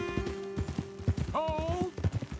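Horses' hooves clop in a steady, close rhythm in Red Dead Redemption 2, with a horse's whinny rising partway through and a voice speaking over the hoofbeats.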